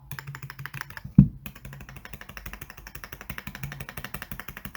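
Quiet, regular keystrokes tap away on a Zoom65 mechanical keyboard, with one louder caps lock clack standing out early on.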